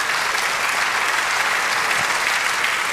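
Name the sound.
applause for the Lord in church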